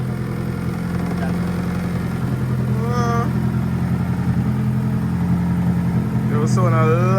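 Car engine running steadily after its first drive through the gears, a loud low idle hum continuing throughout while people talk over it.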